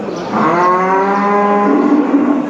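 A cow at a livestock market in Kahramanmaraş, Turkey, gives a single loud, close, drawn-out moo with rich harmonics, heard alone without talk.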